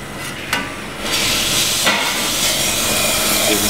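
An espresso coffee machine brewing for a caramel cappuccino: a couple of sharp knocks, then a loud steady hiss and rush of steam continuing to the end.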